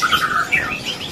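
Caged songbirds at a second-floor bird shop kiosk, including Thai poksai and murai, chirp in bright, rapid bursts close by, with no voices present.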